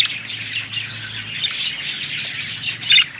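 A parakeet at a bird breeding aviary squawks and chirps in a busy, continuous stream of harsh calls, close and fairly loud, with a sharper burst near the end and no talk.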